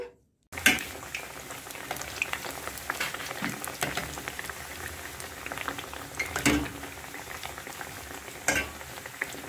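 Mandazi dough frying in hot oil, a dense crackling bubbling hiss that starts abruptly after a brief silence and keeps going with scattered sharper pops and a few louder clatters, close and steady with no voices.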